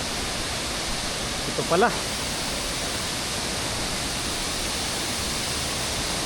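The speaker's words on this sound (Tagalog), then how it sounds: "Marinig natin yung sound ng river." A large river near Tagbibinta Falls in the Maragusan mountains, Davao de Oro, gives off a loud, steady broadband rush that holds for the whole stretch, with a brief spoken phrase near the start.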